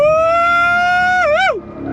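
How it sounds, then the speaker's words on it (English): A loud, sustained high-pitched tire squeal from a 2023 Cadillac Escalade-V under braking holds steady, wavers briefly, then cuts off, with engine rumble continuing underneath. "A chirping tire is a happy tire."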